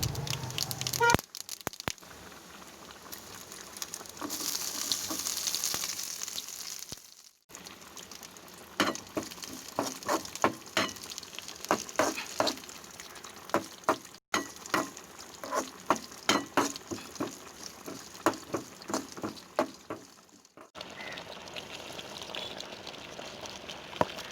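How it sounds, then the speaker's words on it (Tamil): Mustard seeds, curry leaves, onion and cumin tempering in hot oil in a village kitchen, a soft continuous sizzle broken by rapid crackling pops and short gaps, fairly quiet with no talk. "கடுகு பொரிந்ததும் கறிவேப்பிலை, வெங்காயம், சீரகம் ஆகியவற்றை போட்டு தாளித்து எடுத்துக்கொள்ளவும்."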